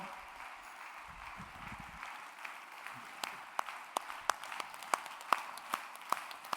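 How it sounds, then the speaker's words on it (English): An audience at a summit applauds volunteers on stage, a soft, continuous patter of many hands. Sharper, louder individual claps join at a regular beat toward the end, and a low voice briefly sounds early on. "Please, let's applaud them"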